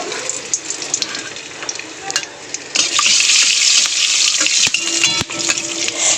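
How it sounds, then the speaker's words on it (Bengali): Whole garam masala spices dropped into hot oil in a wok crackle into a loud, steady sizzle that swells about midway and holds close and bright to the end, with a few sharp pops. "কড়াই বসিয়ে তেল দিয়ে দিয়েছি। তেলের মধ্যে দিয়ে দেবো গোটা গরম মশলা"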